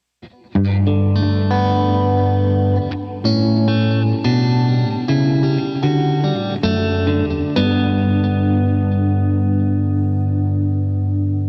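Guitar through a Strymon BigSky MX chorale reverb set to the oo vowel: loud chords ring with a choir-like, vowel-shaped wash that swells and sustains, fading into a long reverb tail at the end, no voices.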